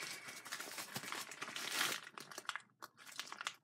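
A mail package is cut open up close, producing quiet crinkling and rustling of plastic or paper wrapping in a steady stream, then a few scattered crisp crackles as it comes apart.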